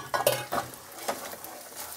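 A spatula scrapes and stirs pasta carbonara in a pan, giving a few sharp scraping strokes at the start and then softer intermittent stirring over a faint background hiss.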